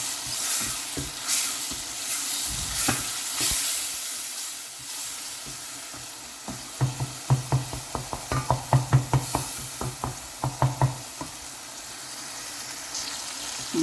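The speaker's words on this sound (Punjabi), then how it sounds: "ਮਸਾਲੇ ਦੀ ਅੱਛੀ ਜੀ ਭੁਨਾਈ ਹੋ ਗਈ ਹੈ, ਆਇਲ ਛੱਡ ਦਿੱਤਾ ਮਸਾਲੇ ਨੇ।" Masala with tomatoes for chana dal karahi fries in a pan with a soft, constant sizzle and hiss. A burst of quick, rhythmic stirring and scraping strokes rises in the middle, then fades back to gentle frying.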